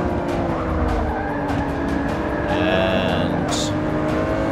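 An Aston Martin Vantage racing in Forza Motorsport 6, its engine droning steadily while tires squeal through a corner, close and loud with other race cars around.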